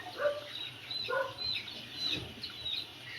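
Eighty-day-old vaccinated layer chicken pullets are packed into boxes for delivery, giving quiet, scattered high chirps and peeps repeating every half second or so over low background noise.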